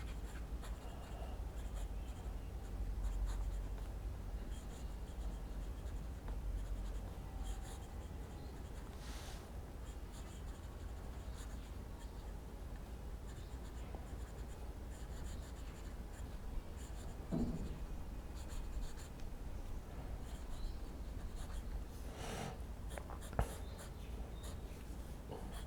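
A steel medium-nib fountain pen writes on paper, producing a faint, continuous scratchy glide with occasional soft strokes and taps over a quiet room.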